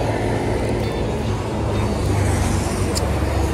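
A car passes at Surabaya airport with a broad, loud roadway rumble and hiss. The sound stays close and steady through the clip, with no talking.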